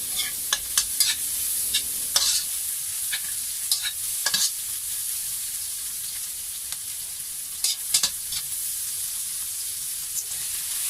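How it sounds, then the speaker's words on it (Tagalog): Shrimp sautéing in a pan for pancit guisado, giving a steady high sizzle with repeated sharp scrapes and clinks of a utensil stirring through the whole stretch, close and without talk. "Gisahin natin siya for 1 minute. And then sama-sama na natin siyang haluin."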